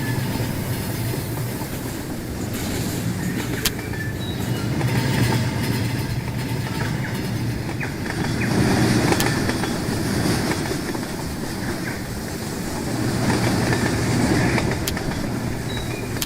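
A train rolling along the tracks in the Rolling Line model railway video game, a continuous rumbling clatter with rhythmic wheel clicks and faint squeals, steady and fairly loud throughout with no talking.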